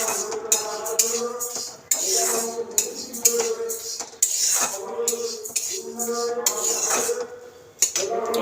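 Dry lentils (dal) roast in a pan with no oil, a rattling, scraping clatter of grains and a utensil against metal in irregular bursts, near and moderately loud, with occasional talk.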